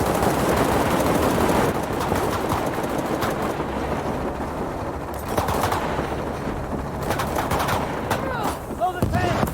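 Soldiers open fire in the video game Shadow of the Tomb Raider: dense, loud volleys of gunshots run continuously with sharp rapid bursts, and voices call out beneath the shooting.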